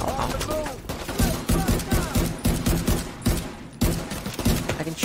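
Rapid gunfire sounds in a Division 2 firefight, with quick bursts of shots in a close, dense rhythm. A voice can be heard under the shooting.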